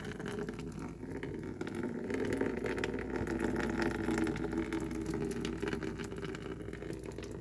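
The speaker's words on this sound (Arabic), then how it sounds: "همسك العدس بقى اصفي الميه اللي موجوده عليه على قد ما اقدر اصفيه" Water is drained off cooked lentils in a kitchen, a continuous close pouring and splashing rush that runs steadily throughout.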